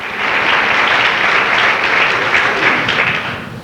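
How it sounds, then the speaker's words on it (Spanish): Loud, dense applause from a church congregation, sustained evenly for a few seconds before tapering slightly at the end. "Dale un aplauso fuerte al Señor"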